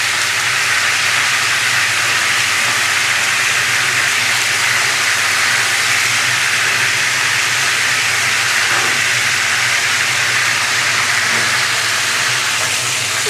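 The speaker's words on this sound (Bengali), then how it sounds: "আমি উল্টে এপিট ভালো করে ভেজে নেব।" Chicken roast pieces frying in a pan, giving a loud, steady hiss of sizzling oil that runs unbroken throughout, with no talking.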